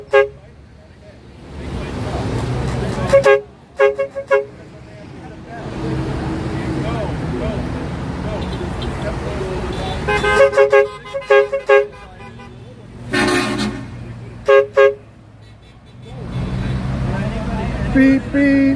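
A car horn honks in several short bursts and one longer blast at a flag-waving gathering in Bellmore, amid passing traffic, with people talking loudly throughout.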